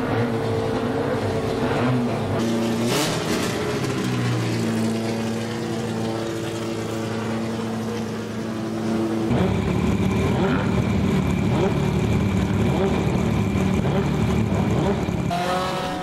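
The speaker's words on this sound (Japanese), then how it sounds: "カテゴリー混走模擬レース、人気ドライバーと歴代マシンの夢の共演が始まる" Race cars from several categories running together in a mock race at the Nismo Festival at Fuji Speedway, engines roaring steadily with a sustained whine, then a louder, denser roar as more cars pass close by.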